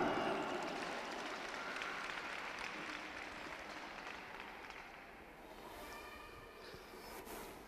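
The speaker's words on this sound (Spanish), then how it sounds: "A su nombre, a su gloria, dale palmas." A church congregation clapping during a sermon in Huancavelica, heard as steady, fairly faint, diffuse applause that thins slightly toward the end, with no speech over it.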